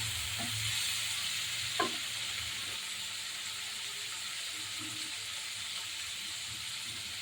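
Shrimp fry in hot oil with a soft, continuous sizzle and hiss, plus a few faint knocks of a utensil early on, heard close but at low volume.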